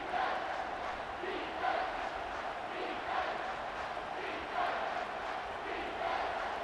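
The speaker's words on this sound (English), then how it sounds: "Here comes this home crowd as the defense tries to get off the field on 3rd down." A home stadium crowd in the College Football 25 video game, Ohio State vs Michigan, roars steadily on a third-down defensive stand, with the dense roar swelling rhythmically every second or so.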